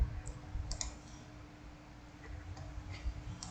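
Mouse clicks pressing an add-equipment button in a PHP/MySQL equipment lending system, a few faint, sharp single clicks scattered over a quiet background.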